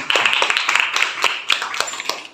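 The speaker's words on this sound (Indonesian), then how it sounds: "Tepuk tangan." A small group claps hands during an Islamic religious lesson, producing a brief, uneven run of sharp, nearby claps that trails off after a couple of seconds.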